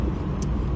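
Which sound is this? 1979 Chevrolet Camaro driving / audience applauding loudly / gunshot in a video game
1979 Chevrolet Camaro driving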